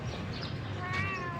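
A recently vaccinated domestic cat that is shedding fur gives a short meow with clear rising-and-falling tones near the end, close by, over a steady low background hum.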